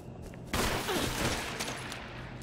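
A single loud shotgun blast in the Resident Evil video game, a sharp report at about half a second followed by a long rumbling, crackling tail, with no talking.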